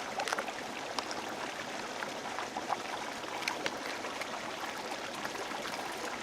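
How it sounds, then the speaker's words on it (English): A mountain stream near Surprise Lake flows in the background, a faint, steady, even rush of water with small splashy ticks and no voices. "You can probably hear the stream in the background."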